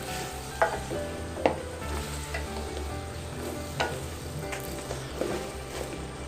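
Fried banana pieces are stirred in hot, bubbling jaggery syrup for sarkara varatti, with a continuous loud sizzle broken by a few sharp scrapes of the spoon against the pan.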